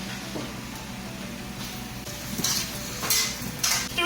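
Chopped carrot and onion stir-fried in a hot pan at a Thai cooking class, a steady sizzle with scraping utensil clinks and stirring bursts growing louder toward the end.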